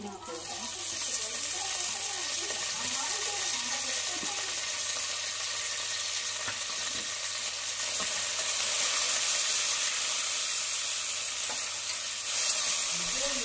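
Onions with a little salt fry in a pan as mint is added, a continuous moderate sizzle with stirring scrapes and a few sharp clicks over a low background hum.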